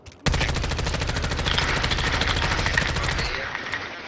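Sustained rapid automatic gunfire in Call of Duty rattles continuously for about three seconds, loud and close, then cuts off abruptly into quieter game ambience.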